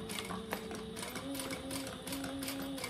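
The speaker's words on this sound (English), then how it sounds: "I am gonna back stitch a couple times" A sewing machine back-stitches on a clutch pocket, a faint, quick mechanical whir with a steady rhythmic needle patter lasting a few seconds.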